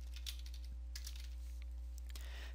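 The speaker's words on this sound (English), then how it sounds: "And you want to type in services." Someone types on a computer keyboard, with scattered light key taps, quiet and close, over a steady low electrical hum.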